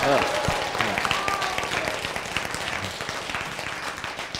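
A crowd at a gathering cheers and applauses continuously, a dense wash of clapping and voices held at a steady loud level throughout.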